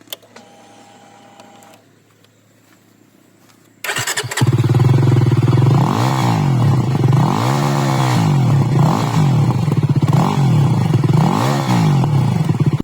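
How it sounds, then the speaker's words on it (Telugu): A Jawa 42 motorcycle starts after a few quiet seconds, then its engine and exhaust run steadily and loudly up close, with rhythmic revving swells through the rest of the clip. "సో బైక్ ఎగ్జాస్ట్ సౌండ్ వినిపిస్తా చూడండి"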